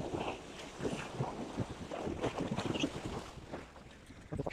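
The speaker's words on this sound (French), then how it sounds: "il y a un espèce de tanker là qui passe" Large waves roll in from a passing tanker ship, heard as irregular, faint surges of water and splashing along the shore, with wind buffeting throughout.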